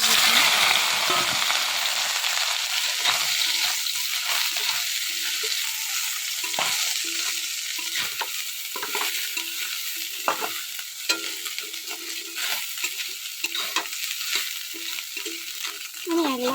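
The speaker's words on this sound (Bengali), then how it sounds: "তেলটা একটু গরম হয়ে গেলে সবিন দিয়ে নেবো সবিন ভেজে নেবো" Food fries in hot oil in a pan, a constant dense crackling hiss punctuated by frequent light scraping and clicking of a stirring utensil.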